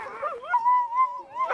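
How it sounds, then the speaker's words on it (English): Husky sled dog, a lead dog, giving a drawn-out, wavering howling whine up close, rising and sliding in pitch, ending with a short yelp. "He's one of our best lead dogs."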